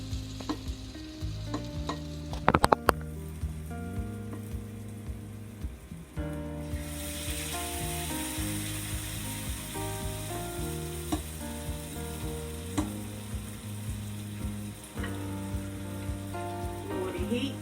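Nigerian akara fritters with shrimps frying in hot oil, a continuous close sizzle with soft bubbling, starting quieter and rising to a fuller hiss after a few seconds.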